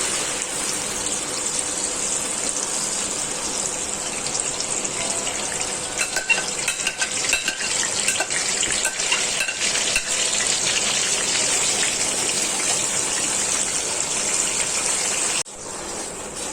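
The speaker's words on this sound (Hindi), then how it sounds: "अब हम इसमें टमाटर का पेस्ट डालेंगे। ऑयल हमारा गर्म हो गया था।" Tomato paste hits hot oil in a kadai for a fish curry and sizzles in a loud, steady broadband hiss that carries on throughout with no talking, dropping abruptly near the end.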